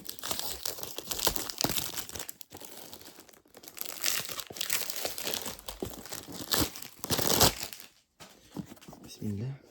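Crinkling and tearing of paper wrapping as a perfume box is unboxed, with rustling bursts over several seconds and someone speaking at times.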